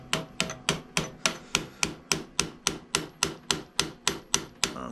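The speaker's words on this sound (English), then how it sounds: "reach over for that hammer" Rapid, evenly spaced hammer taps on metal while fitting a side-mount number plate on a Norton bobber motorcycle, about three strikes a second, close up and with no voices.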